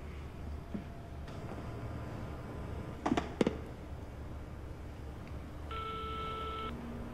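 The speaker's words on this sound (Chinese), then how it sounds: "要不我再给他打个电话？" Quiet electronic tones sound as a telephone number is dialed, with a couple of sharp clicks and then a brief stacked tone near the end over a low background hum.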